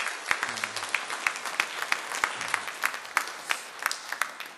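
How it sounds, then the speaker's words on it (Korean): A Korean church congregation in New Jersey claps during a Sunday service to welcome members back from Korea, a moderate spread of hand claps with a few sharper, louder claps standing out, fairly quiet overall. "우리 박수로 한번 환영하시겠습니다"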